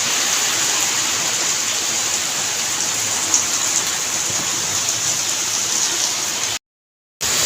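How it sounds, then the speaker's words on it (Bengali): Heavy rain pours down during a storm as a dense, even roar of falling water that holds steady for several seconds, cut by a short silent gap near the end. "প্রচুর কালো মেঘ করেছে, বৃষ্টিও হচ্ছে।"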